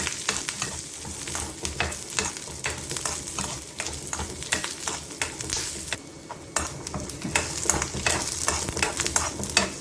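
Chopped garlic and cut coconut roast in a pan for a fenugreek-leaf chutney, a continuous crackling sizzle broken by frequent scraping and clinking of a spatula stirring them around.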